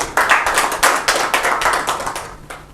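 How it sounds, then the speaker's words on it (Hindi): A crowd claps together, a dense burst of applause that rises and falls in waves, fairly close and with no talking over it. "एक बार जोरदार से ताली हो जाए।"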